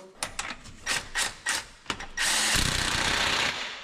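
A power tool whirs in several short bursts, then runs in one long continuous burst, close and loud, tightening the crank bolt on a turbocharged LS engine.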